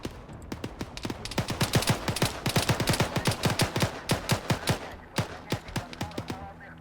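Rapid automatic gunfire in the video game Arma 3 rattles in dense, steady bursts with brief pauses, then turns to sparser single shots, close and loud throughout.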